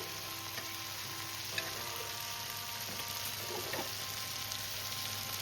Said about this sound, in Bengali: এবার আমি এর মধ্যে দিয়ে দেবো সিদ্ধ করে রাখা আগে থেকে অরলের ডাল